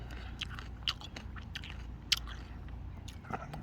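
Close, crisp bites and chewing on a crunchy green Thai mango, with a few sharp crunches standing out over steady quieter mastication, no talk.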